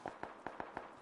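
Rapid gunfire in the battle royale game PUBG: five sharp, evenly spaced shots in about a second, loud and close, with no voices over them.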